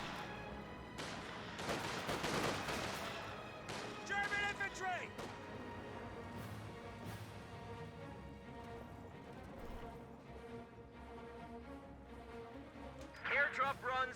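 Gunfire and bazooka blasts in the video game Company of Heroes 2, with scattered bursts of shots and booming impacts under steady game voice lines, mostly moderate and distant-sounding.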